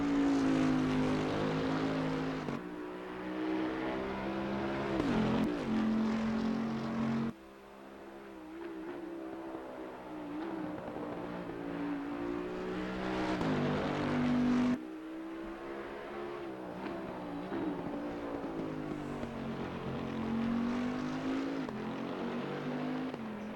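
Bentley GT3 race car engine in Assetto Corsa Competizione, racing at Imola, roaring loudly throughout with rising and falling revs and sharp gear changes, up close and alone with no talk.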